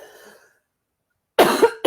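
A couple of sharp, loud coughs close by, following a brief stretch of quiet.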